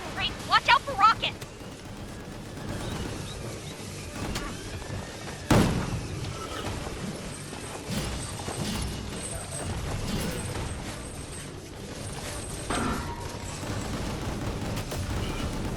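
Rockets and explosions in Gungrave G.O.R.E., scattered booms and gunfire with one heavy blast midway, mixed with game effects and someone talking.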